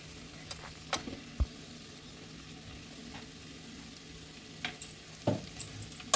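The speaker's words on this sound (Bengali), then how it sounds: "কিছুক্ষণ মতো আমি স্লো ফ্লেমে এটাকে কষিয়ে নেব" Jackfruit and potato being sautéed with spices on a slow flame. A faint, low sizzle runs throughout, broken by a few sharp clinks and scrapes of a spatula against the pan.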